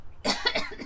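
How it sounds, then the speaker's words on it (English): A single person coughs once, a short, close, rough burst that breaks into a few quick pulses. "I'm coughing"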